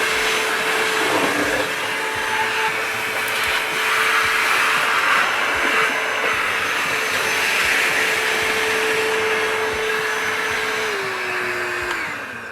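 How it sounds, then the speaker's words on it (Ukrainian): An Einhell TE-HV 18/06 Li cordless handheld vacuum cleaner runs continuously at close range, a loud steady whine and airflow rush that shifts pitch slightly near the end as it winds down. "Потужний пилосос."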